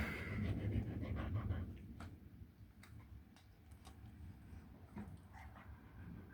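A dog pants steadily at close range, a quick rhythmic breathing with faint ticking and small movement noises, louder at first and then softer, with no talk over it.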